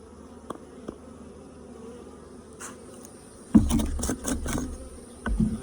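Honeybees buzzing around a hive split in a backyard apiary: a low steady hum of many bees with individual insects droning close past, swelling louder in the second half along with some handling noise, no voices.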